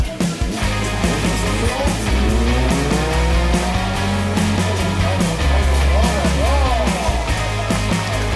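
A stunt motorcycle in an acrobatic show accelerates hard with the front wheel locked, its engine droning loud and close with rising revs and a faint tire squeal, while a voice talks over it.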